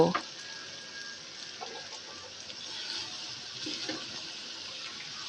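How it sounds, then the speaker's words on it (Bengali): Fried potatoes being stirred and sautéed into a spice paste for Kashmiri aloo dum, giving a steady soft sizzle with occasional faint scrapes of a spoon against the pan, close and even throughout. "মশলার সাথে এবার আলুগুলোকে নাড়াচাড়া দিয়ে কিছুক্ষণ কষিয়ে নেবো"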